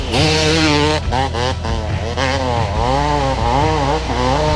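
An enduro motorcycle screams up a very steep hill at full throttle. The engine is close and loud and stays on the limiter, with rapid rises and dips in pitch as the rider shifts and the tyres bite.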